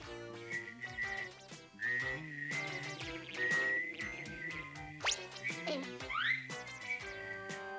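Someone whistles a bouncy tune over busy cartoon-style music from a 1984 animated series, with a couple of sliding, boing-like effects mixed in.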